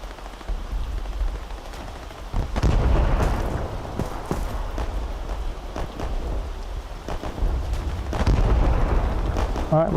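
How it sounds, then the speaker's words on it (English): Artillery shells exploding during video game play, heavy booming blasts at irregular intervals over a steady roar of rumbling noise, loud and close. "Alright, well there's some artillery coming in there."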